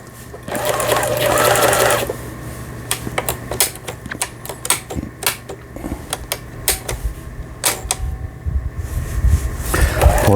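Pfaff 6120 sewing machine running a straight stitch, a loud mechanical whir with rapid rhythmic clatter, stopping and starting in short bursts alongside clicks and handling noises nearby.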